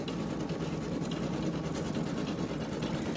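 A Janome embroidery machine stitching a design runs with a steady, continuous mechanical whir and fast rhythmic clatter, close and unbroken throughout.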